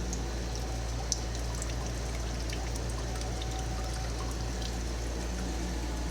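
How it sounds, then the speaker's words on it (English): Water is pumped in reverse out of an open-source water sampler, drawn from the system back into a bucket, with a steady continuous pump hum and trickling water, plus one tiny click. "now we're drawing water out of the system and in reverse back into the bucket"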